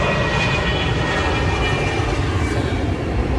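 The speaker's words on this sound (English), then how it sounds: "As you can see, a few planes flying past." Airplanes fly overhead near Changi Beach in Singapore, a loud, continuous roar of aircraft engines that fills the air without pause.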